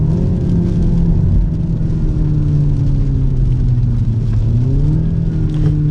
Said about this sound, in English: So let's go ahead and put it in sport mode, do some downshifts.